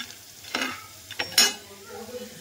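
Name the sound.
flattened rice and peanuts frying in a pan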